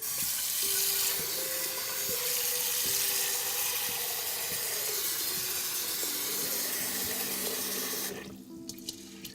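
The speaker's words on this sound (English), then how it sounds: "Now we're going to clean the rice." Running tap water pours into a pot to rinse rice for congee, a steady loud rush of water that cuts off abruptly near the end, with no talking.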